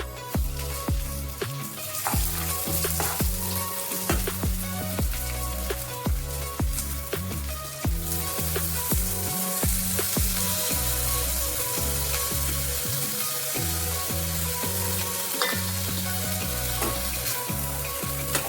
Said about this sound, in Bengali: নারকেলটা আমার ভাজা হয়ে গেছে। এর মধ্যে আমি এবার চালটা দিয়ে দেব।